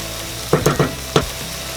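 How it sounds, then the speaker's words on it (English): Onions fry in a pan with a steady close sizzle, broken by four or five quick scraping stirs over about two seconds. "You want to keep stirring onto your onions until it gets golden brown."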